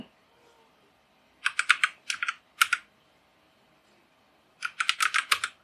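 HTML and CSS code being typed on a computer keyboard, close and crisp, in two bursts of rapid key clicks separated by a quiet pause, with no talk.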